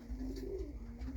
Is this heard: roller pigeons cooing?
yes